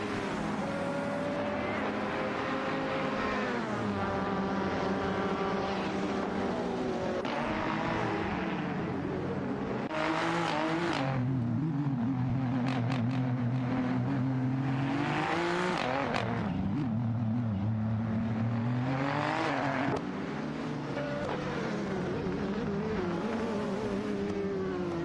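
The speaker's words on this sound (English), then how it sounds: "Botshron and Patent Tanker are locked in a fierce duel for 14th place, with Botshron steering the Onrit Ligia JSP2 Nissan" Engine sound from a 24-hour AI endurance race in a racing video game, led by a Ligia JSP2 Nissan prototype duelling for 14th place: continuous loud, near engines rising and falling through gear changes as several cars pass, with no talk.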